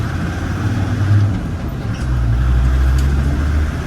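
A Land Rover Defender Td5 driving in second gear after an LT230 transfer gearbox swap, a steady low diesel engine drone and road rumble that rises slightly partway through, with no talk.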